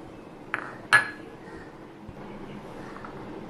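Freshly washed mint leaves dropped into a steel mixer jar, giving two quick clinking metallic taps close by, then a faint dull thud against a quiet room background.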